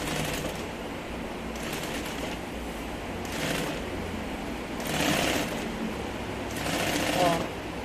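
A sewing machine stitches around a large changing bag, whirring in steady rapid bursts that start and stop every second or two, while someone talks over it throughout.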